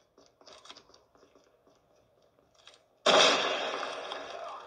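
A grenade goes off in Call of Duty Mobile, a sudden loud blast that follows a quiet stretch of faint clicks and small noises, then trails off into a rumbling decay.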